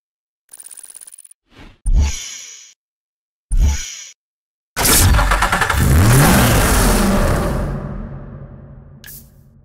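A Subaru Impreza WRX STI in the Need for Speed Hot Pursuit Remastered racing game gives a few short separate revs, then a long loud rev that climbs and slowly fades, with nobody talking.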